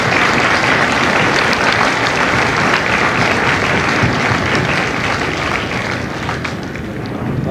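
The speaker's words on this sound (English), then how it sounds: "please join me in a round of applause for the drill instructors and families of Delta Company" Sustained, loud applause from a large audience at a Marine Corps Recruit Depot San Diego graduation ceremony, honoring drill instructors and families; dense steady clapping throughout, easing slightly near the end.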